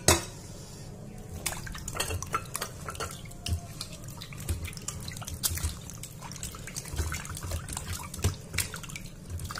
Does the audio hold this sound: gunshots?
no